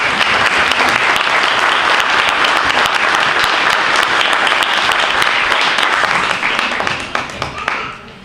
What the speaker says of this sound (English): So please welcome them with a great round of applause.